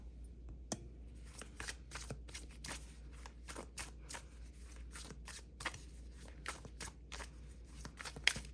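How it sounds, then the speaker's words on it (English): Tarot cards being shuffled, a quiet series of crisp riffling and flicking bursts repeating at an uneven rhythm, close and soft over a low steady hum. "I'm going to get some tarot cards going here."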